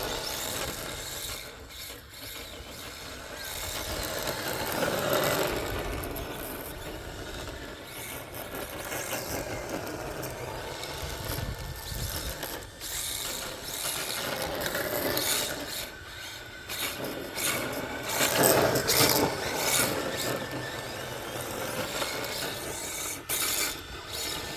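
A small radio-controlled Datsun Hilux model car runs continuously, with a steady raspy whir of its electric drive and rough grinding from the wheels, a fairly constant level for the whole stretch and no talking.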